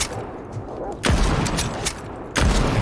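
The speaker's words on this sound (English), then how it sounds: "You can see by just dumping a couple of mags over into the cash wall." In Rainbow Six Siege, two loud bursts of gunfire pour into a wall, each a sharp heavy crack with a rattling tail, separated by a pause of over a second.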